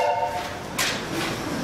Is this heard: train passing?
yes